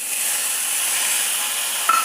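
Tomatoes going into a hot pan of sautéed ingredients for poricha kuzhambu, a steady close hiss of sizzling oil and steam that holds evenly, with a brief brighter tone near the end.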